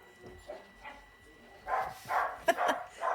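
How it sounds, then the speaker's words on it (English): Dogs bark inside a house from another room, several separate barks and yips coming in uneven bursts, moderately loud and slightly distant. "I'm sure you can hear the dogs in the back."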